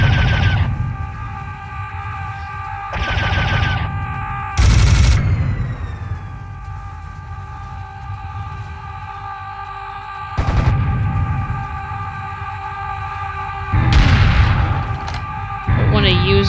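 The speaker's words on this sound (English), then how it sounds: "I want to use up all my machine gun ammo" Machine gun fire in the game Serious Sam Classic: The First Encounter, loud bursts of rapid booming shots coming in several separate volleys with quieter gaps and a ringing tone between them.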